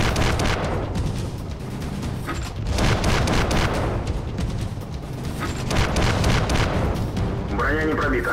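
Cannon fire from a BT-2 light tank in the World of Tanks video game, heavy booming shots over a constant rumble of battle noise, with a synthetic voice-like chirp near the end.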